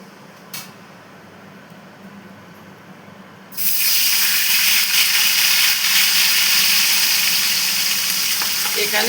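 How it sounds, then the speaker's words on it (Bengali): Hilsa fish, an egg-bearing one, dropped into hot oil in a home kitchen, bursting into a loud, steady broadband sizzle after a few quiet seconds and frying continuously to the end. "মাছটা ভেজে নিচ্ছি"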